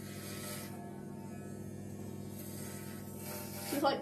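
Electric hair clippers give a steady low buzz close by during a buzz cut of long red hair, holding even and quiet throughout with a brief louder scrape near the end.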